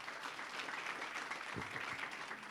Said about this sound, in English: I think they deserve a really big round of applause.